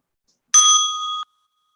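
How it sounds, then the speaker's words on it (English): A single small meditation bell is struck once, producing a bright, clear metallic tone that rings for under a second and then stops abruptly, with silence before and after. "as you listen to the bell,"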